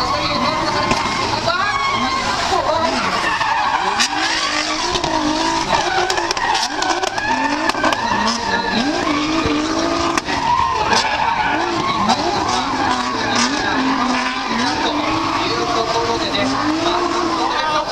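Drift cars at a D1 Grand Prix event in Nagoya, including a Ferrari, Lexus LFA and Nissan GT-R 35, roar and skid continuously with screeching tires and revving engines, loud and sustained, while an announcer talks excitedly over the noise throughout.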